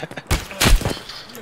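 Video game gunfire: two sharp, loud shots in quick succession, a few faint pops before them and a fading tail after, with no talk.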